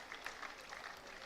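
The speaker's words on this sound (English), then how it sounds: "As you can hear the crowd applaud now" Crowd applause at a country football match in Western Australia, a steady faint clatter of clapping from spectators that runs the whole moment without a break.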